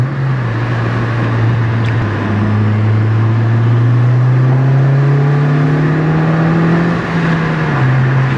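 An 8th-generation Honda Civic Si engine drones steadily and slowly climbs in pitch as it revs through a 4Race aftermarket exhaust, a deep, airy tone, loud and close, with no talk.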